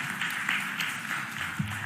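An audience at a Philadelphia mayoral budget address applauds, producing a dense, even wash of many hands clapping that holds steady throughout, with slight swells in volume.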